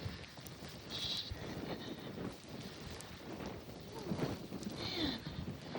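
Cold wind blowing through a blizzard, a steady broadband rush with gusty swells that rises slightly toward the end, fairly faint and continuous.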